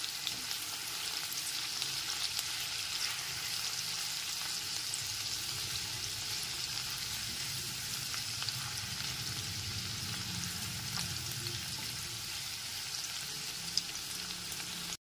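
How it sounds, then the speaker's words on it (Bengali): Chopped onion frying in oil in a pan over a low-to-medium gas flame, a steady continuous sizzle with occasional soft stirring scrapes, close and even throughout with no talk. "গ্যাসের ফ্লেমটা লো টু মিডিয়ামে রেখে পেঁয়াজ কুচিগুলো একটু লাল করে ভেজে নিতে হবে।"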